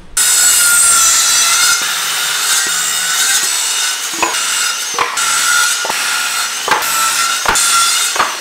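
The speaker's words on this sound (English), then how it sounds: "we're going to cut these boards down to 69 and a half" Wooden boards are cut with a hand saw, the blade rasping in long repeated strokes with sharp clicks and knocks between them, loud and close with no voices.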